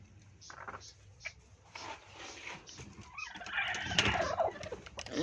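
Broody native country hens make low, irregular clucks and murmurs close by, with a louder, busier burst of squawking toward the end.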